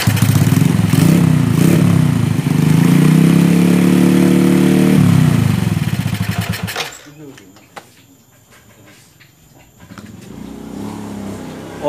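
A small motorcycle engine, a Honda Grand or Supra type with the key ignition replaced by a switch, runs loudly close by and then is shut off, leaving quiet before a faint idle returns; a person talks briefly.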